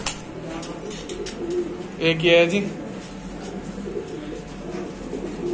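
A pigeon gives soft, low cooing calls in the background while someone talks nearby, with a brief louder coo partway through.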